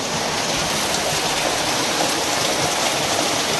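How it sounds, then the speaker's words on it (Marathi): Steady, dense rain hiss fills the scene without a break, a broad wash of falling water with no voices over it. "हा बघा इकडे पाऊस."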